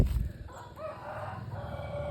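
A decoy rooster or jungle fowl crows at close range outdoors during a hunt, one drawn-out call rising over steady rustling and background noise, with no talk.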